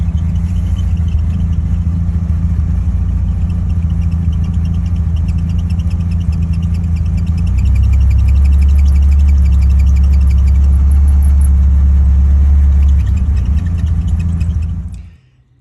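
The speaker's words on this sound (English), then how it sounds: "that's me running the car and hearing that ticking noise at idle" A 1960 Austin Healey Sprite engine idles loudly and steadily at close range with a fast mechanical ticking over the rumble, the idle rising midway before the engine cuts off at the end.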